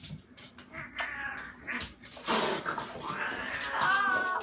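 Cats fighting with a nervous dog nearby: short whines and yips, then harsh hissing and rising yowls that grow louder toward the end. A few soft voices are mixed in.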